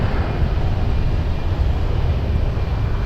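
An Airbus A319 airliner starts its takeoff roll at Lisbon Airport, giving a loud, steady low engine roar that fills the whole short stretch with no voices.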